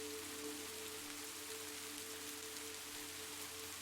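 Soft rain patters steadily against a window pane, a continuous, even hiss of drops with a faint low hum beneath and no voices.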